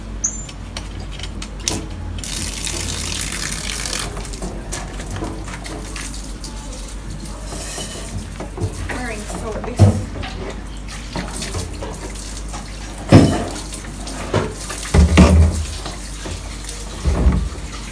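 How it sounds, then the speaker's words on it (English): A garden hose runs water in a steady, fairly quiet rush, broken by a few louder splashes and bumps toward the end, outdoors while collecting organic fertilizer for plants. "let's turn on the hose."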